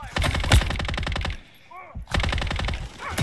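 Rapid automatic gunfire in Call of Duty Modern Warfare III multiplayer on the Rust map, loud close bursts, a brief lull, then another burst of fire; a short voice line sounds during the pause.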